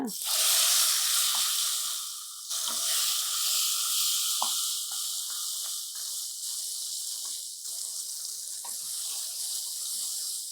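Ground spice paste frying in a hot pan for a mango curry, a loud, continuous hiss and sizzle that dips briefly, then carries on evenly with faint clinks.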